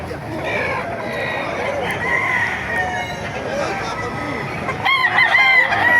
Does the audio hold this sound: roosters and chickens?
yes